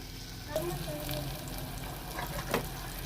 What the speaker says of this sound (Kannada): ಜಸ್ಟ್ ಒಂದೇ ಒಂದು ನಿಮಿಷ ಫ್ರೈ ಆಗಲ್ರಿ ಇದು ಟಮಾಟಿ ಮೆತ್ತಗಾಗಲಿ